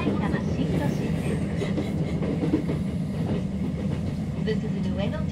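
Steady interior rumble of a Ueno-Tokyo Line commuter train on the Tokaido through-service, running between Omiya and Saitama-Shintoshin, with continuous low wheel and motor noise and faint rail clatter throughout.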